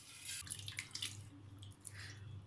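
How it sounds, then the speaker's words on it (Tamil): Prawns are washed by hand in a bowl of water, giving soft sloshing and dripping splashes in uneven bursts, quiet and close, with no talking. "இறால் மீனை தண்ணியில் போட்டு நல்லா கழுவிக்கோங்க."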